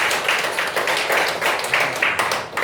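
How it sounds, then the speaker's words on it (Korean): Audience at a debate clapping in a brisk, fairly close burst of many hands, steady and even throughout the short stretch. "힘찬 박수 부탁드리겠습니다."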